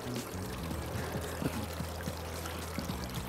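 Water running from a drinking fountain at a garden and floral shop, a steady close pour and trickle with gentle bubbling, continuous throughout.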